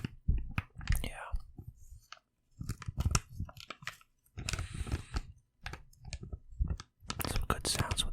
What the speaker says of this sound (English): Some good sounds with this piece of plastic.